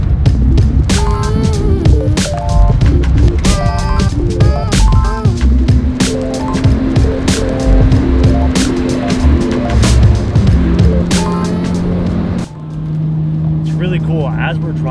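A JDM car drives through the forest roads of Akagi National Forest, its engine droning steadily with shifting pitch under loud clicks and knocks and a person talking.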